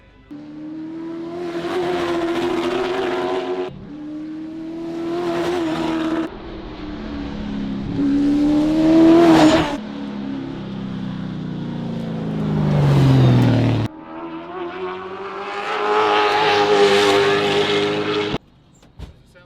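A late model race car runs hot test laps, its engine revving loud and steady with pitch rising and falling through shifts and corners, cutting out briefly between passes before roaring back.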